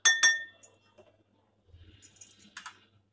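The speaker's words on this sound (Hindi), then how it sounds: "अब इसे भी हम चम्मच की सहायता से मिला देते हैं" A metal spoon clinks against a glass while mixing a colored cola-flavored syrup for homemade ice candy, giving a few bright, close taps at the start and a cluster of quick clinks near the end, with quiet gaps between.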